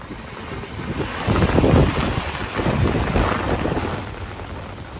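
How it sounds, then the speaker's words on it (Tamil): A heavy summer downpour with strong wind in Tamil Nadu's Erode district makes a dense, loud, continuous roar of rain, swelling and easing in gusts throughout, with no voices. "பலத்த காற்றுடன் 1 மணி நேரத்திற்கும் மேலாக பலத்த மழை பெய்தது"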